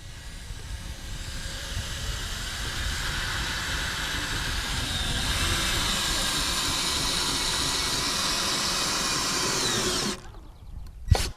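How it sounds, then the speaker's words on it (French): A power drill whines continuously for about ten seconds, loud and close, then stops abruptly with a brief clunk. "Tu perces des trous pour quoi faire ?"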